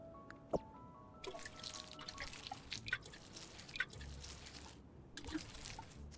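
Crops being watered in the farming video game Grimshire: faint drips and small trickling splashes spaced irregularly over quiet background hiss.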